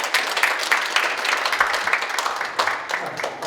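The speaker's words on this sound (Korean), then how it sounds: "큰 박수 부탁드립니다." Audience applause at a Korean business lecture event as the guest cartoon lecturer is welcomed, a steady dense wash of many hands clapping throughout, moderately loud and without talk.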